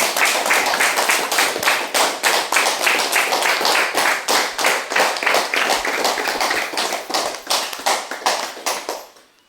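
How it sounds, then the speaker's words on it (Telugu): Audience at an old-age home gathering gives a round of applause in honour of a helper, many hands clapping densely and steadily at close range, then fading out near the end. "చప్పట్ల ద్వారా ఒకసారి మన అభినందనలు"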